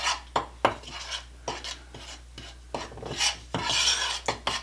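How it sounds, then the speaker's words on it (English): Large serving spoon stirring muffin batter in a bowl, repeated scraping and clinking strokes against the sides in an irregular rhythm, close up with no talking. "we will go ahead and give this a stir"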